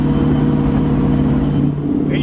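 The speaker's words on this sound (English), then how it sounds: "It's got a Chevrolet engine." A Deronda car's Chevrolet engine runs in a loud, close, steady hum with a low throb that eases slightly near the end, while a voice talks over it.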